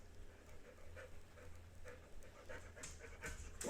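A dog pants steadily and rhythmically close by, the quick breaths running throughout over a low background hum, with no voices.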